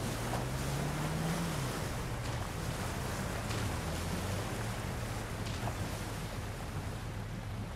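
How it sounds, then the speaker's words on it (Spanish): Sea waves wash and surge in the video game Uncharted 4 in a continuous broad roar with a wind-like hiss, joined briefly by a low engine drone, steady and moderately faint with no talking. "Qué bien hecho está el oleaje del mar"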